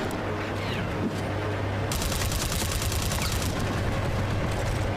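A sustained burst of rapid automatic gunfire in the video game Mercenaries 2, with loud dense rattling shots that start abruptly partway through, preceded by softer game ambience and a few scattered reports.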